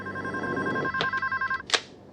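A telephone rings in a sitcom apartment scene, a steady electronic trill in short repeated bursts, fairly close and clear, with no talk over it.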